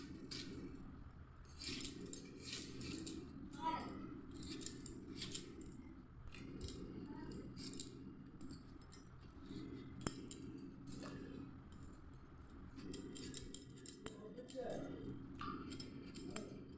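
Potatoes cut into pieces by hand, a faint series of repeated knife clicks and taps at an irregular rhythm, with short pauses between cuts.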